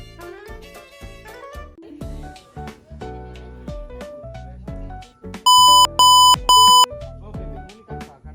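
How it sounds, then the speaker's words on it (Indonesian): Three loud, evenly spaced electronic buzzer beeps from a home security keypad after a wrong PIN is entered, cutting in over ongoing background music. "buzzer akan berbunyi 3 kali"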